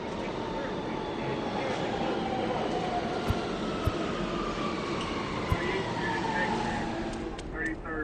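Subway train arriving at Yankee Stadium station in MLB The Show 24, a steady rumbling, screeching rail roar with a few sharp clicks, while a voice speaks throughout.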